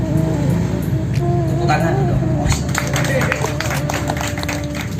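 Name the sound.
audience applause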